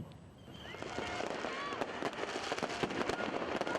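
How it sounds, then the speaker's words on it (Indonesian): Fireworks explode at a New Year celebration at Bundaran Hotel Indonesia in Jakarta, a dense, continuous barrage of crackling bursts and pops with whistling rockets, loud and sustained, with a crowd murmuring beneath. "Letupan kembang api menandai pergantian tahun di Bundaran Hotel Indonesia, Jakarta."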